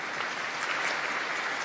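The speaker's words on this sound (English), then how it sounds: "I think that applause might be for your last bit of assessment tonight as well, so definitely deserved applause" Audience applause at a formal public debate on whether reconciliation requires a treaty, a steady, dense wash of clapping from a large hall crowd sustained at even loudness throughout.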